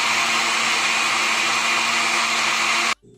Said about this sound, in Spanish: lo voy a volver a moler unos segundos